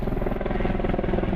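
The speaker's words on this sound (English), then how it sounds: "Airplanes and helicopters cut through the Rocky Mountains here." A helicopter flying over the Rocky Mountains near Medicine Bow Peak gives a steady, loud rotor drone that fills the moment with no other sound.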